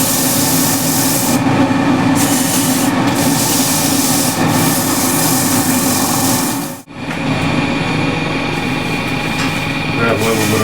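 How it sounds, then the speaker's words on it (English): Hand sanding of a rippled ash wood plate gives a loud, continuous abrasive rubbing, close up, with one brief dip in the middle before the steady scraping resumes. "I'll sand this a bit."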